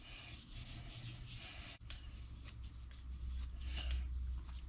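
Steady rubbing and scraping of a putty knife blade drawn across paper to sharpen it, a close, continuous abrasive hiss with a brief break partway through and no voices.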